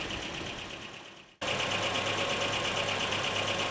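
Rescued Nissan 720 ST truck engine running for the first time in years, a steady close idle with a rhythmic mechanical clatter that briefly drops out, then picks back up and keeps running alone.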